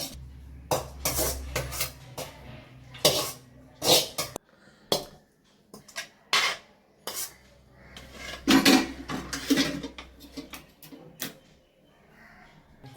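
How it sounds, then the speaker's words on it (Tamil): A metal spoon scraping and clinking against a cooking pot while carrot rice is scooped out into another vessel, a series of short, irregular scrapes and knocks, close and clear with no talking. "ஒரு பாத்திரத்தில் இதை அள்ளி வச்சிடலாங்கம்மா"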